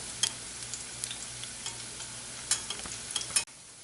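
Lauki (bottle gourd) koftas frying in hot oil, a steady low sizzle with occasional sharper crackles and light stirring clicks, close and alone, cutting off abruptly near the end.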